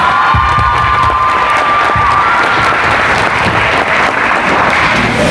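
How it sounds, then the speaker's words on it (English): A crowd at a volleyball academy's end-of-season celebration bursts into loud, sustained applause and cheering, with high shouts and whistles over steady dense clapping throughout. "Can I please get a round of applause for May, please?"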